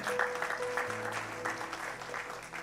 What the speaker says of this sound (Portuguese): Então dê um aplauso bem forte ao Senhor.